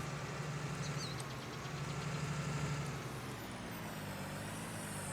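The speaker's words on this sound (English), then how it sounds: "this tractor has enough power to pull this" Tractor engine idling in Farming Simulator 19, a steady low rumble with a faint periodic throb, moderately quiet and even throughout with no talk.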